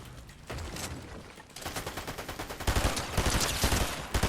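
Rapid gunfire from a Fortnite Battle Royale match, bursts of shots building in loudness and density into sustained automatic fire, close and loud with no talk.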